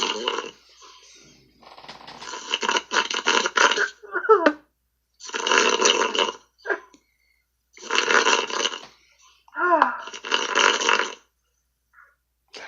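A person snoring in loud, rhythmic bursts, each long rasping inhale separated by short quiet gaps, with a few gurgling, burp-like sounds between breaths.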